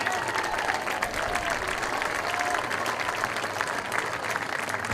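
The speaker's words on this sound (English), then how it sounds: "Let's give another round of applause to the Bracewell Stadium Wall of Honor class of 22 recipients, Tim Hoffman and Josh Osborne." Steady applause from a stadium crowd at a varsity high school football game, a dense continuous wash of clapping that holds at even loudness throughout with no voices standing out.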